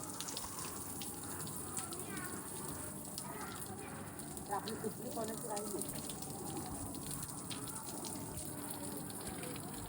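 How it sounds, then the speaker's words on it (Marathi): Continuous rush of running shower water at a swimming pool, steady and fairly loud, with faint voices mixed in. "ओ शुभम शेठ, आणि इकडं ही तिघं शॉवर खाली"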